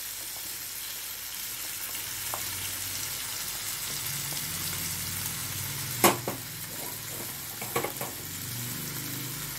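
Onions and curry leaves fry in a pan for a dry chicken dish, giving a steady close sizzle and crackle with a few sharper spatters and stirring clicks near the middle.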